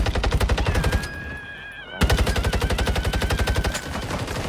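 Rapid machine gun fire in Warzone Mobile rattles in a dense, even stream that is loud and close, breaks for a brief pause, then keeps going without talk.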